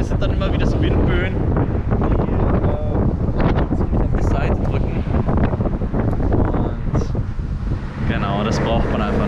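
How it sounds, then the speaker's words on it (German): Strong wind gusts buffet the microphone on a coastal road in Croatia, a heavy continuous roar that rises and falls across the whole stretch while someone speaks over it. "Vor allem sind dann immer wieder so Windböen,"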